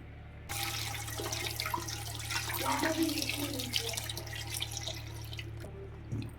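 Capsicums are rinsed under a running kitchen tap: a steady close stream of water pours and splashes for several seconds, with shifting gurgles as the vegetables are handled, then stops abruptly near the end.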